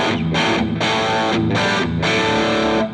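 Distorted electric guitar through a Mooer GS1000 captured model of a gain pedal, loud saturated chords hit in a rhythmic stop-start pattern, playing alone before fading out.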